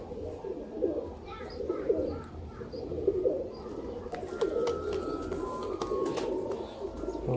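Ali walay pigeons cooing in a loft, repeated soft throaty coos from several birds close by, with occasional chirps and faint background voices throughout.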